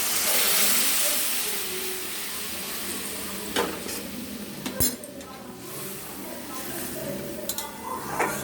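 Hot water poured onto fried mustard-poppy spice paste for a fish curry, giving a loud steady sizzle and hiss that slowly settles, with occasional stirring clinks of a spoon against the pan.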